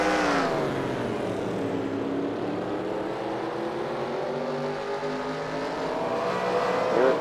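Race cars roar around the track in a steady, loud engine drone with shifting pitch as cars jostle in traffic, continuous throughout with no talk.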